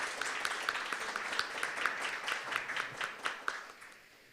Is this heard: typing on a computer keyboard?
no